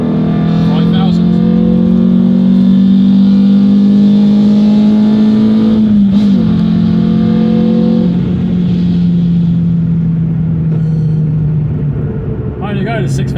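A cammed Renault Clio 182 Trophy engine revs loud and close from inside the car, a droning pitch climbing steadily with one brief gear-change dip, held high for many seconds before easing off.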